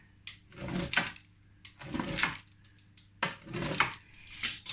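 Homemade tiger nut crackers are cut into smaller squares in a kitchen, four distinct crisp cutting strokes, each a short scraping crunch separated by brief pauses, close and moderately loud.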